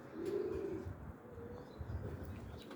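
Young pigeons coo softly in a quiet loft, a low murmuring call near the start with fainter cooing and light rustle after, no voices present.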